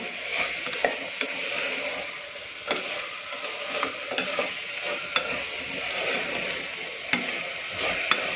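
Spiced vegetables for chhole pulao are stirred in a pan, giving a soft continuous sizzle broken by scattered spoon scrapes and clicks, close and fairly quiet.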